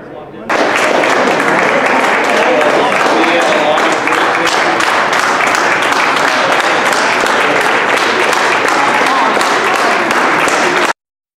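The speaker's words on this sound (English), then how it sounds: "Applause everywhere they go, these folks." Sustained applause from a crowd welcoming North Country Honor Flight veterans in Washington, DC, a dense even clatter of many hands lasting about ten seconds at steady loudness.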